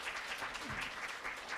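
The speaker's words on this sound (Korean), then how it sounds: "권준수 교수님을 큰 박수로 소개해 드렸습니다" Applause from an audience at a medical talk on psychosis, greeting a professor as he is introduced; a soft, steady patter of clapping across a short stretch, moderately distant, with no speech over it.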